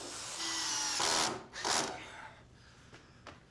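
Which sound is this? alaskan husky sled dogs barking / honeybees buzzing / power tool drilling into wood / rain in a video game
power tool drilling into wood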